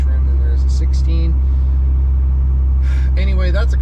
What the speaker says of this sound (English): as I'm driving down here in some nasty stop and go traffic on 405 South coming into Bellevue